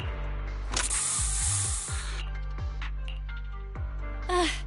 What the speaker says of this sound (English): have a taste of this special Bang-Boo spray